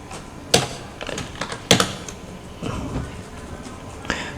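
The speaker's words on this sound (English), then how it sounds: "let's start Windows key and R key and type service m.msc." Someone types services.msc on a computer keyboard with a few distinct close key taps, two sharper presses standing out, over a quiet room.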